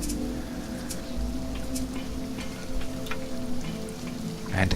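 Steady rain patters in the survival game Sheltered, a dense continuous hiss with a few brighter drop ticks, moderately loud and alone with no voices.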